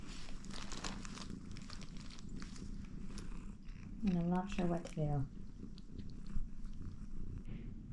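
A cat purring while stuck to a bed in a hotel room, a soft continuous rumble under a person's nearby speech, with a few louder vocal-like bursts midway.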